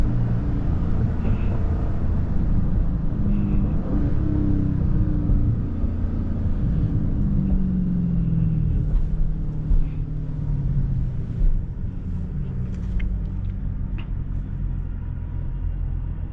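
A crashed Dodge Scat Pack car's engine rumbles steadily while accelerating, a continuous low drone heard from inside with rising pitch sweeps suggesting gear changes, no talking.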